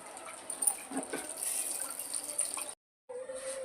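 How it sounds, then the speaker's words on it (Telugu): Water pours steadily into a pot of tamarind fish curry with a splashing, filling sound, stops abruptly, then resumes briefly. "వాటర్ పోసేసాను"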